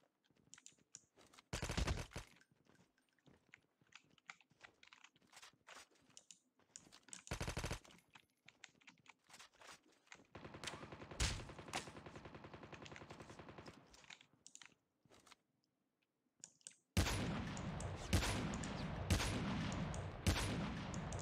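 Gunfire in the battle royale mode of Call of Duty Mobile: scattered single shots and short bursts, then sustained rapid automatic fire near the end, loud and close with quiet gaps between.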